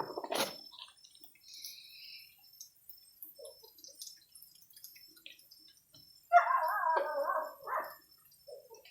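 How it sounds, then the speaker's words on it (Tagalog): A dog at a house at night gives a short sharp bark early on, then after a quiet stretch a longer, drawn-out howling bark, fairly close and alone. "Yung aso palaging kumakahol."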